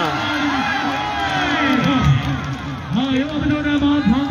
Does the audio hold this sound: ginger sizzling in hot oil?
no